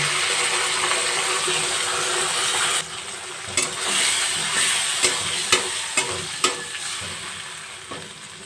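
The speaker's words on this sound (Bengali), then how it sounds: "এবার টমেটো কাঁচা লঙ্কা আদা পেস্টটা দিয়ে দেবো" Tomato, green chili and ginger paste frying with capsicum in a pan for vegetarian chilli paneer, a loud hiss that drops as the paste goes in, followed by several sharp stirring knocks.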